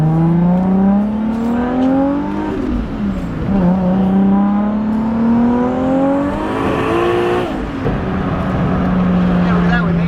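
A right-hand-drive Toyota Supra with over 1000 horsepower and a manual transmission, its engine droning loudly close by, rising in pitch through the gears with shifts and a final drop as it eases off.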